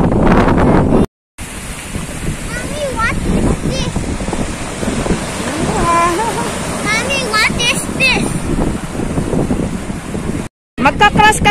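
Strong ocean waves crashing on the beach at Playa de Santa Cruz, a continuous loud roar with wind buffeting the microphone, and people talking and exclaiming over it nearby.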